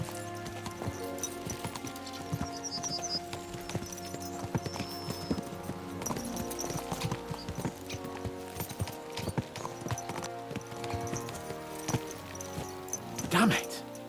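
Steady clip-clop of horse hooves at a running pace in Kingdom Come: Deliverance II on PS5, over continuous game music, with a brief whinny near the end.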